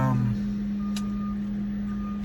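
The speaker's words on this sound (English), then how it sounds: "that beeping you hear is that truck backing up at day cab" A truck's reversing beeper sounds a steady tone in the background over low engine rumble at a truck repair shop, with a brief higher beep early on.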